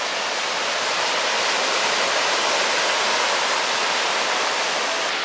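Sea surf at a Peruvian beach at Ventanilla fouled by an oil spill rushes in a loud, unbroken roar of breaking water, a steady broad hiss with no pauses or voices over it.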